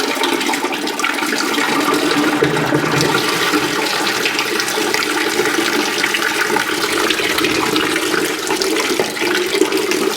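Water drains steadily from an Allis Chalmers motor grader during an oil service, a continuous close splashing and rushing pour that runs unbroken for ten seconds.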